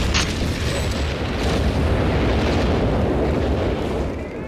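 A bombing run in Company of Heroes 3 brings a loud, sustained rumbling blast with dense low roar and crackling debris that fills the whole span before easing slightly at the end.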